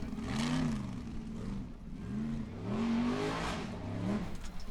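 A Formula Offroad car named Tímur, driven by Helgi Sveinn Heimisson at an Icelandic Formula Offroad round in Egilsstadir, revs hard, its engine note rising and falling in repeated surges, close and loud.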